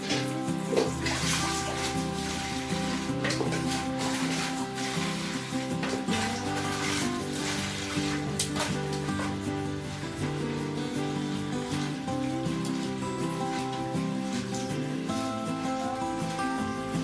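Fenugreek leaves are swished and rinsed in a vessel of water, giving continuous sloshing and splashing with irregular bursts of dripping close by.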